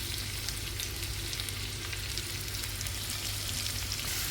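Potatoes and kefta meatballs sizzle steadily in a frying pan, a continuous close crackle of hot oil with no pauses.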